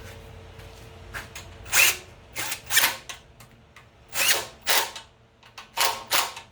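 An impact wrench works a nut on a pressure washer powered by a Honda GX160 engine, giving several short sharp rattling bursts in quick succession, close and fairly loud against quiet background.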